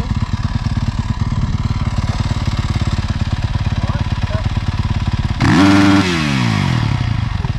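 A motocross bike engine runs loud and close the whole time with a steady rapid firing pulse, then revs up sharply near the end and settles back down. It is heard at a ProMX motocross round in Canberra.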